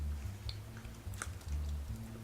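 Soft, airy peanut-flavored Israeli cheese puffs being chewed, quiet squishy mouth sounds with a few faint clicks over a low hum.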